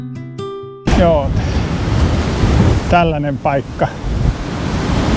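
Strong seaside wind at Tuja on the Latvian coast roars and buffets the microphone in a continuous loud rush, while a person speaks briefly over it.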